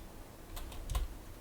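A few crisp computer keyboard key presses, tapped while modeling a coffee mug in Blender 3.4.1, come as a quick cluster of separate clicks, close and fairly quiet, with no talking.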